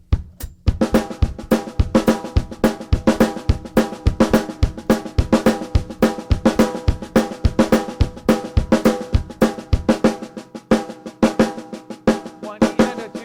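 Drum kit playing a fast train beat with steady sixteenth-note snare strokes and accented hits, driving continuously and loudly up close with no talking.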